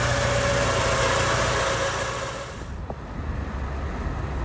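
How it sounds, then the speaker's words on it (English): A 1986 Porsche 944 engine idles at operating temperature with its cooling fans running, a steady close mechanical hum and fan whoosh that drops slightly in level partway through, with no voices. "I've got the engine up to temp,"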